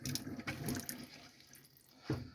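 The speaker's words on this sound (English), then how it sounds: "Just see if we get some hot water coming out of these taps." Water splutters unevenly from a tap in a 2019 Bailey Pegasus Grande Turin caravan, with sputtering bursts and gurgles as air breaks the flow, fairly quiet and close.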